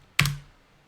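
A single sharp keystroke on a computer keyboard while entering a Windows command, one close, crisp click with a short decay and no speech.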